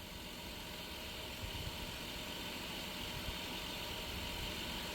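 A 2002 Chrysler Town & Country LXi minivan engine idling after maintenance, a steady, even hum with fine rapid vibration throughout, low in level and uninterrupted.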